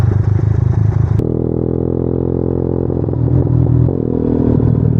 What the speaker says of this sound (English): it reaches a certain point, it really doesn't want to accelerate